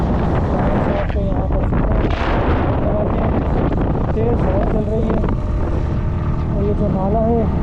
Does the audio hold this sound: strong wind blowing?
yes